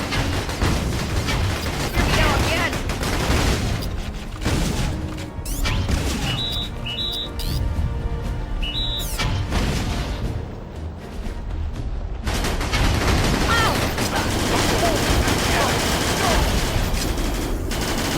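Battalion Wars battle: dense, loud gunfire and machine-gun bursts, punctuated by heavy mortar blasts, roar almost continuously, easing briefly in the middle before surging again.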